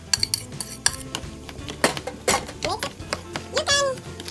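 Radish salad with sugar, salt and black pepper is tossed in a bowl, a utensil clattering and scraping in uneven bursts up close while someone speaks over the mixing.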